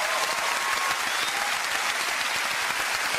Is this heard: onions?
no